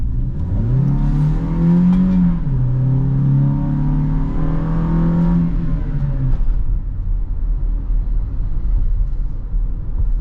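A Toyota Hiace JDM van's engine pulls under acceleration, the steady drone climbing in pitch, dipping briefly at a shift and rising again before easing into a lower rumble of road and engine noise.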